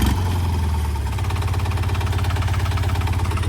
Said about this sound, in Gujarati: Mini tractor.